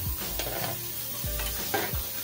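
Tuna (tulingan) being stirred slowly in coconut milk with garlic, tomato and ginger in a pan, giving a low bubbling simmer broken by a few soft scraping strokes of the spoon, close up, with no talking.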